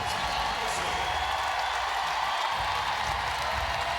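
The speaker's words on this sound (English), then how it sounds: "this crowd is appreciating the Minnesota Lynx" A basketball crowd applauds the Minnesota Lynx in an arena late in a game against the New York Liberty, a steady, distant wash of clapping and crowd noise with no clear individual claps.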